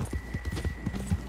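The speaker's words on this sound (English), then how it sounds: "Where did these horses come from?" Horses trot across the ground in Red Dead Redemption 2, their hooves clip-clopping in a quick, steady rhythm that sounds close and fairly loud throughout.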